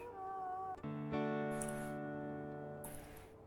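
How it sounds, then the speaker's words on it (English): A wolf howl in the WolfQuest video game comes as a long tonal cry that steps up in pitch and then holds steady, slowly fading over a few seconds. Two brief bright bursts of sound break in over it. "Do a little howl."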